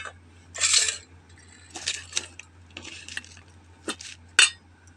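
Guava is mixed with kasundi mustard sauce in a bowl, heard as a few close, irregular scrapes and clinks of a utensil against the dish, separated by quiet pauses.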